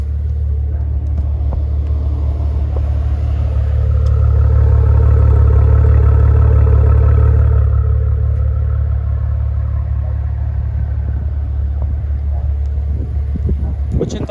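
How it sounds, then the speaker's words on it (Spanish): Maserati Ghibli 3.0 V6 running, a deep loud engine rumble that swells briefly midway and then settles back to a steady low drone, with clatter and some voice in the background. "El sonido de este coche creo que es lo mejor."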